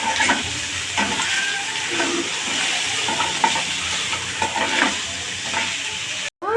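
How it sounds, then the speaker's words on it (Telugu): Prawns fry in a pan with a loud, steady sizzle and hiss. Occasional spatula scrapes and clinks punctuate it, and a brief cut near the end breaks the sound for a moment. "దీన్ని ఒక ఐదు నిమిషాలు ఫ్రై చేసుకోవాలి"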